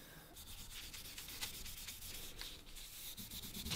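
Fine 2500-grit sandpaper rubs steadily back and forth over a Damascus steel chef's knife blade in short, even strokes, close and fairly quiet.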